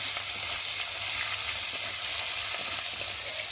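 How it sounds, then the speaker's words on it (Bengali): Onions, whole cumin seeds and green chillies fry in hot oil in a pan for a rohu fish curry, giving a dense, steady sizzle, close and even, with no talk. "আমি দেবো গোটা জিরে, আর দেবো পেঁয়াজ, আর দেবো কটা কাঁচা লঙ্কা দিয়ে একটু ভালো করে পেঁয়াজটা ভেজে নেব"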